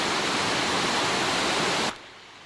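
Kinlock Falls on Hubbard's Creek roars as a steady, loud broadband rush of falling water, heard alone with no voices, then drops abruptly to a softer wash near the end.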